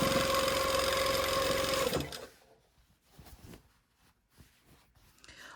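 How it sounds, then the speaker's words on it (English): A sewing machine top-stitches along a garment hem, humming loudly and steadily for about two seconds before stopping, followed by quiet rustling and handling of fabric. "now I'm going to turn, sewing along the hem"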